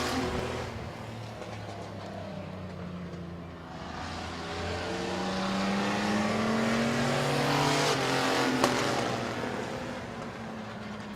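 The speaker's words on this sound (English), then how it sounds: "And Cody Jayberg spins off turn number 2, going to keep his machine rolling" Race cars roar around the Midvale Speedway track, engines droning and rising in pitch as cars pass, a steady loud motor sound with a brief tire squeal, no voices heard.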